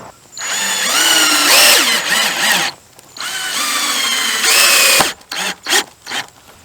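Power drill driving fasteners to attach wooden floor joists for a shed floor, two long loud whirring runs with a pause between, then several short bursts and stops.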